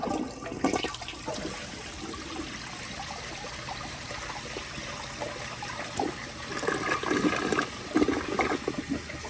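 A 1978 Eljer Emblem toilet flushes with mineral deposits in the bowl, a sustained rush and swirl of water with gurgling surges toward the end, recorded close up with no talking.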